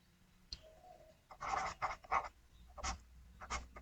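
A pen scratches out a math solution on paper in a quiet room, with a few short bursts of writing strokes separated by pauses and a faint tap near the start.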